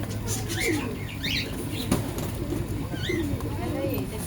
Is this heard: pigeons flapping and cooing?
yes